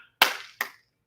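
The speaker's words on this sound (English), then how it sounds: "Everybody give yourselves a clap" Members of a martial arts class clap in unison twice, about 0.4 seconds apart. Each clap is a sharp, close, crisp burst that decays quickly, with silence around it.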